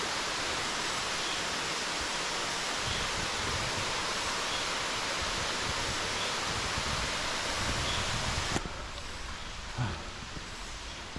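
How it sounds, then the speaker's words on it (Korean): A waterfall beside a mountain hiking trail on Oseosan in South Chungcheong, Korea, roars with a steady, loud, close rush of falling water that drops slightly in level near the end. "폭포. 폭포도 있어."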